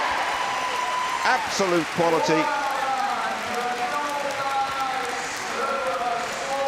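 Crowd applause and cheering fill the main arena at the Crufts 2015 agility team small final, a broad steady roar that swells toward the finish and runs under excited commentary throughout.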